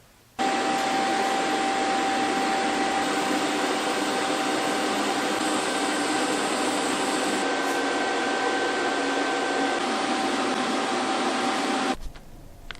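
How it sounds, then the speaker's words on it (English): An amateur TIG welder runs a steady bead with filler rod along a sectioned G-body bumper, giving a constant loud electrical hiss and hum with a fixed tone that holds unbroken for about twelve seconds, then cuts off. "We're trying to get better at how to use filler rod with the TIG welder."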